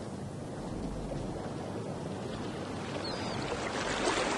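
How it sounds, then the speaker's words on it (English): Gentle waves lap against a sandy beach at Presque Isle, a soft continuous wash of surf with light wind noise and a slight swell toward the end. "as the waves lap gently against the beach, the grains are deposited in tiny ridges"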